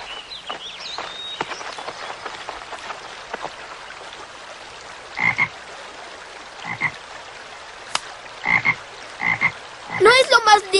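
Several frogs croak in short repeated bursts over quiet running water in a stream, scattered at first and growing more frequent and louder toward the end.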